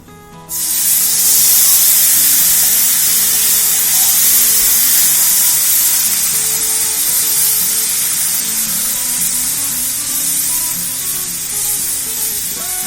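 Water is poured into roasting flour for Turkish flour helva and bursts into a loud, sustained hiss and sizzle that fades slowly as the mixture is stirred.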